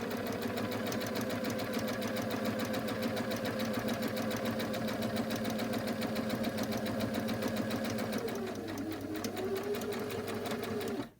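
Sewing machine stitching a fabric face mask, running in a steady rapid mechanical chatter for several seconds, with a slight shift in pace near the end before stopping abruptly.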